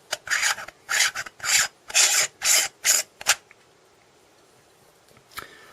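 A Vivitar Series 1 0.43x wide angle lens with macro section is screwed back onto a vlog camera, giving about seven close, rhythmic rasping thread scrapes before a quiet stretch and one faint late click.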